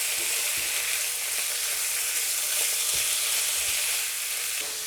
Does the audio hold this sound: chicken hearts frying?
yes